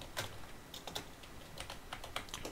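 Typing on a computer keyboard while entering skills into an online resume builder, a quick uneven run of light clicking keystrokes in small bursts, close and alone with no talking.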